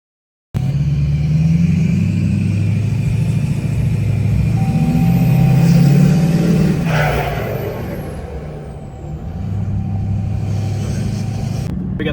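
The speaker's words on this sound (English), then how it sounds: "You can hear the turbo whistle and a little bit of motor noise, but that's about it." Inside the cab of a diesel pickup truck with a 5-inch exhaust, cruising with the windows up at about 45 mph, a steady low motor drone runs under a faint, thin turbo whistle.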